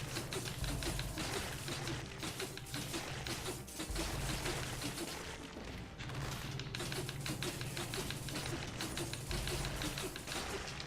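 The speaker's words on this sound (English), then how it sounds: "It's the sound of the Blood Sword putting in its work." Rapid Blood Sword strikes in the Dead Cells video game, a dense flurry of sharp clattering hits running almost nonstop with brief dips, loud and busy over game effects.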